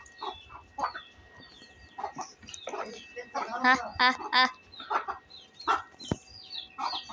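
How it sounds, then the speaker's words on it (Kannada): Chickens cluck in short bursts around a rural home beside a sugarcane field, near and clearly audible, while a person talks and laughs over them. "ನೋಡ್ರಿ, ನಮ್ಮ ಕೋಳಿ ಬಂತೆ."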